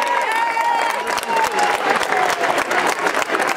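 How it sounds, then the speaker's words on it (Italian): Audience applause for mothers at a Mother's Day school event, a dense, steady clapping from a crowd, moderately loud and continuous throughout, with a voice faintly audible over it. "facciamo un fortissimo applauso alle mamme"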